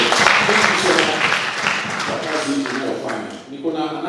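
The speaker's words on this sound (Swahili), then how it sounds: "Hebu tumpigie makofi pozo." A church congregation claps at a Sunday Lent service in a Kikuyu-speaking parish, a dense, steady patter filling the room for the whole stretch while a voice carries on over it.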